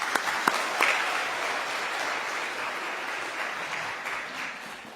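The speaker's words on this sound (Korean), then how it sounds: "우리 다시 한번 우리 뜨거운 환영의 박수로 같이 하나님의 말씀 청해 듣도록 하겠습니다" A church congregation at a Korean Baptist evening service applauds in welcome, a steady wash of clapping from many hands that holds through the whole stretch, with a few sharper claps standing out near the start.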